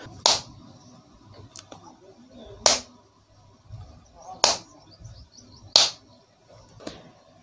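Four sharp, loud hand claps or finger snaps, spaced a second or two apart, set off a clap-operated switch circuit that toggles a bulb, with a fainter snap near the end in an otherwise quiet room.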